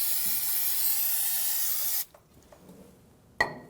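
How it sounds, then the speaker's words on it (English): Aerosol brake cleaner sprayed on a 1997-2006 Jeep Wrangler brake part in one loud, steady hiss of about two seconds, cut off abruptly, then a quieter shorter spurt near the end. "Now let's clean it up with some brake clean"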